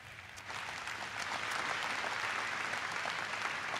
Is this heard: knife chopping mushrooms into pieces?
no